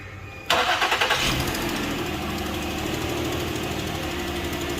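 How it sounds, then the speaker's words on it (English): A 2014 Ford Explorer engine cranks briefly on a cold start and catches, revving with a few uneven pulses before settling into a steady, rough idle. "Okay, we're gonna do a cold start."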